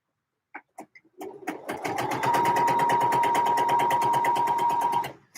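A domestic sewing machine stitching a French inseam on wide-legged trousers: a few hesitant clicks, then a fast, steady motor whir with a rapid needle chatter and a sustained hum that runs for several seconds before stopping.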